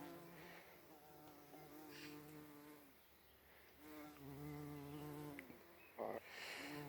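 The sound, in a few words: bees buzzing around flowers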